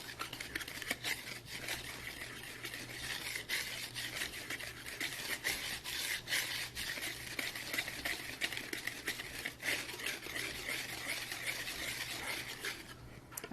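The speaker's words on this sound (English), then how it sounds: "we're going to whisk that" A hand whisk beats gluten-free angel food cake ingredients in a bowl, giving rapid, steady close clicking strokes that run for several seconds before stopping.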